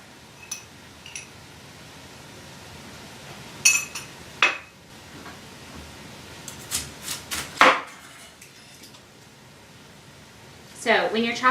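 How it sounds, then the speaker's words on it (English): Broccoli is chopped with a knife on a cutting board for a keto veggie casserole, giving scattered crisp knocks and a few clinks of kitchenware against quiet room noise, with a brief clatter near the end. "So when you're chopping your broccoli"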